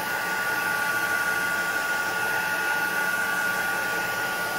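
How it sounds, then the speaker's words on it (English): Electric heat tool blowing steadily while drying ink and wet paint on a mixed media journal page, a continuous close, even whoosh with a faint high whine running through the whole stretch. "This literally takes about a minute to dry with this heat tool."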